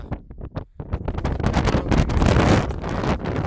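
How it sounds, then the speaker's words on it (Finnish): Strong wind roars and buffets against the microphone at a tent on Mont Blanc, building into a steady, loud rush after a brief gusty start. "Teltta on pysynyt pystyssä, vaikka onkin aika kova tuuli."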